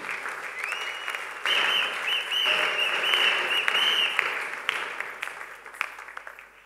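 A church congregation applauding during a Sunday worship service, sustained loud clapping from a large crowd in a reverberant hall, swelling and continuing throughout.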